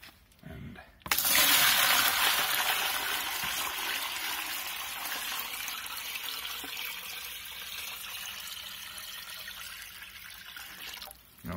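Tap water pours steadily into a bucket for a flow meter test, a continuous loud gushing rush starting abruptly after a second of quiet and running unbroken until it cuts off near the end.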